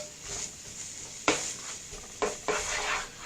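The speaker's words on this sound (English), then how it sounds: "I can hear a sizzle though." Food sizzling in a pot, a steady crackling hiss with a few sharper bursts as it's stirred.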